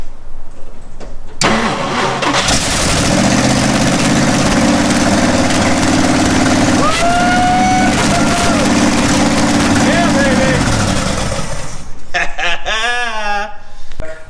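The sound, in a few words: Jeep J2000 engine running, fuel tank fed straight to carburetor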